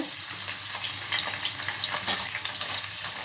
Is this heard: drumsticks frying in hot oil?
yes